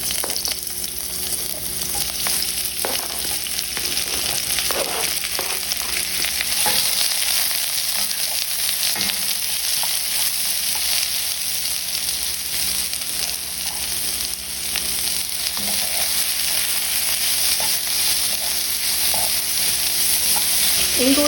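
Onions, garlic, ginger and spices frying in avocado oil in a pot for an egg curry, a loud, continuous sizzle with occasional stirring scrapes, no talking.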